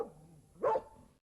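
A dog bark sound effect from a stage-play scene: one short, fairly faint bark rises briefly out of a quiet background.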